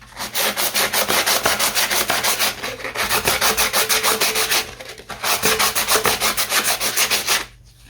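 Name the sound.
sanding an empty Frenchic paint tin with sandpaper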